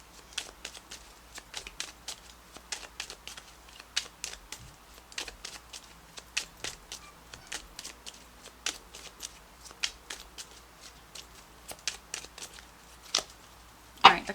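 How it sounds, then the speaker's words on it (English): Tarot cards are shuffled by hand for a long stretch, a close, soft stream of riffling slaps and flicks with short pauses between bursts and no voice over it. "The cards just don't want to shuffle for you, Libra."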